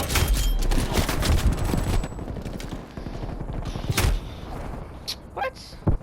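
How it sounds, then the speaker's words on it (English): Bursts of gunfire from an enemy sniper in a video game crack over a dense battle din, with rapid volleys early on and sharper isolated shots later. "Enemy sniper firing."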